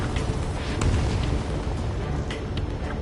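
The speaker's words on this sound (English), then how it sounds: "Missile hit." A missile strike explodes in the Ace Combat jet game, a continuous broad low rumble and roar with a few sharper bursts, sustained and fairly loud throughout.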